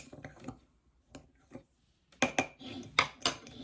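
Homemade adobo-style seasoning of dried spices and oregano mixed in a bowl with a metal spoon, giving sparse light clinks and scrapes, then a busier burst of ringing taps and scraping near the end, close and clear with no voices.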